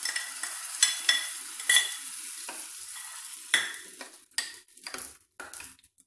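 Hot tempering of browned dal in oil poured into peanut chutney, giving a loud burst of sizzling and crackling that flares in several sharp spurts and then settles into a fading, sputtering hiss with light stirring clinks.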